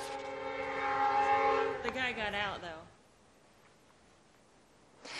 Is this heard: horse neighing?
no